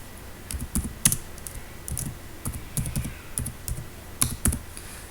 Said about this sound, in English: I am typing my name here.